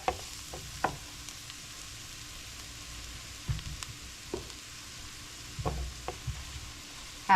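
Celery and flour sizzle gently in a pan for a chicken or turkey stuffing casserole, a low steady fry broken by intermittent scraping and stirring knocks, close and fairly quiet, no talking.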